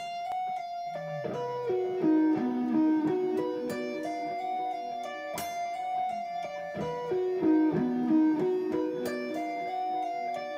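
A slow electric guitar line of single picked notes and bends, clean and steady, played alone with no talking.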